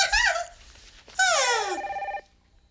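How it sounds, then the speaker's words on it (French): A telephone rings in a children's television scene, two bright warbling bursts separated by a short pause, loud and close, with no talking over it. "Oh, le téléphone."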